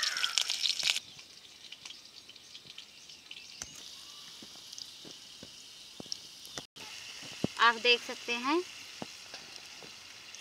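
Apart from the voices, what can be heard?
green chillies sizzling as they fry in oil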